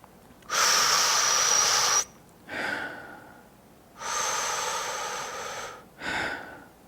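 Slow, deliberate breaths from the belly in a diaphragmatic breathing demonstration, with two long, loud airy exhales alternating with two shorter, softer inhales, close and alone without talk.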